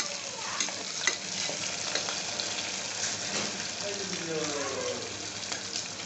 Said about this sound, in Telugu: ఒక చాలా పెద్ద 3 ఆనియన్స్ కట్ చేసుకున్నాను వేసుకున్నాను. ఇవి కొద్దిగా వేగనిద్దాం.